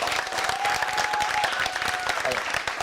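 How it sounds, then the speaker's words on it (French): An audience at a morning gathering claps steadily for their representative, a dense, continuous round of applause filling the room at even loudness throughout. "est-ce qu'on peut applaudir pour votre représentant ce matin"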